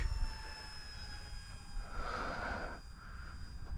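A faint, high-pitched motor whine from a distant 3D-printed PZL.38 Wilk scale model airplane flying slowly hangs in the air, swelling slightly as it passes.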